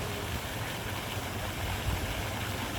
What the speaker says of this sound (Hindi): ये देखें आबशार उन्होंने बनाई हुई है।